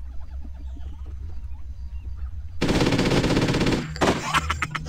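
Video game gunfire in Hitman: Codename 47: a loud sustained burst of rapid automatic fire, followed by a few more choppy volleys over a low background rumble.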